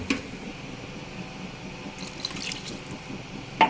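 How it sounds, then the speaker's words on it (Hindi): Water pours into a pan of vegetables that were just fried in masala spices for vegetable Maggi noodles, a steady splashing wash with a few small drips and clinks, fairly close and with no talking. "2 कप हम इसमें तकरीबन पानी डालेंगे"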